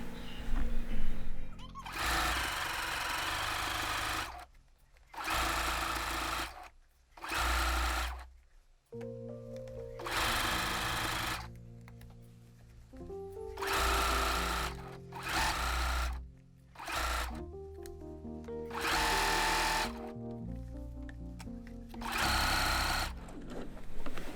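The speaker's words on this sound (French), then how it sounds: "maintenant on va faire une couture au point droit tout autour de la semelle en laissant la petite ouverture prévue" A sewing machine runs a straight stitch around a slipper sole in repeated bursts of steady, close mechanical whirring, with short pauses between runs. No one speaks.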